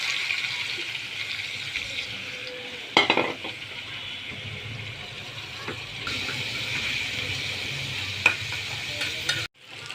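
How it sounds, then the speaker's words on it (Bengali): Broiler chicken with tomato, carrot and green chilli fries in oil, a steady low sizzle with occasional stirring clatters and scrapes, close and fairly quiet, no talking. "এখানে আমি তেল ঢেলে দিয়েছি এগুলোর ভিতরে দিয়ে দিলাম"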